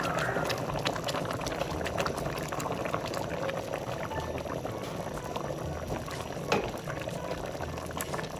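Thick katmon jam boils steadily in a pot, a continuous dense bubbling and popping close by, with one slightly louder pop near the end.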